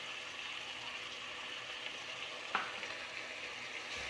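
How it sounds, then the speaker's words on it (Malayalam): Tomatoes and salt for crab curry sauté in a pan with a soft, steady sizzle throughout, broken by one faint clink midway. "ഉപ്പും കൂടെ ഇട്ട് കൊടുത്ത് നമുക്ക് നല്ലതുപോലെ വഴറ്റിയെടുക്കാം."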